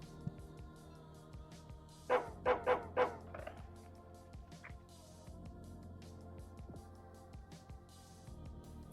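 A small white dog in Psychopomp gives a quick run of four sharp barks over a faint, steady ambient drone. After the barks the scene stays quiet and sparse.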